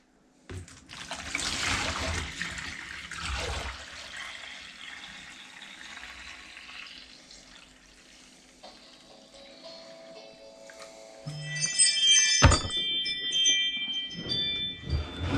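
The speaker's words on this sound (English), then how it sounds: "I just transferred that water to over here." Water poured from one container into a bowl during small-scale gold panning, a splashing, trickling pour near the mic that fades midway, followed by a brief clink and louder sloshing with a metallic tinkle; no talking.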